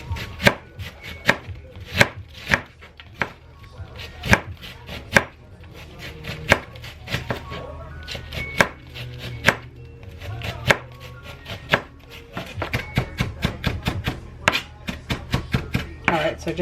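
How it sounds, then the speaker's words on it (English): A knife chops purple onion on a cutting board in close, crisp strokes. It starts at an uneven pace, then speeds into a quick, steady run. "just finished chopping up the onion"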